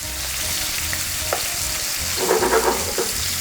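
Steady frying sizzle of shrimp and garlic in a pan over medium-low heat, crackling continuously with a brief burst of louder spattering near the end; no one speaks.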